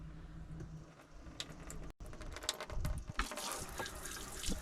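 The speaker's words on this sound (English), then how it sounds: "We have our sink with its own running water." Water runs steadily from the tap into a small sink inside a camper van, a soft continuous splashing with a few faint clatters.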